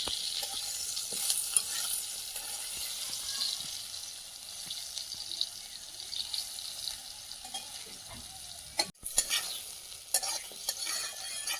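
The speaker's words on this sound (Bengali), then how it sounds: "বেগুনটা ভাজা হয়ে গেছে, তুলে নেব।" Brinjal (eggplant) pieces frying in oil at home, with a soft continuous sizzle and frequent scraping stir strokes of a spatula in the pan, fairly quiet and close, with no voices.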